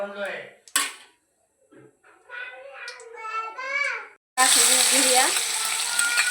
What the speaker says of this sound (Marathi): मिरची आणि लसणाची पेस्ट अशी छान तळू द्यायची